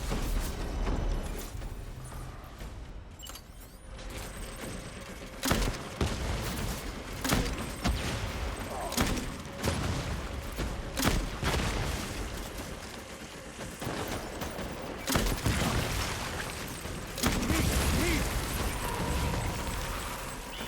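Gunfire rattles through a Death Stranding battle, with sharp shots and bursts scattered irregularly over a dense, noisy background, some loud and close, others softer.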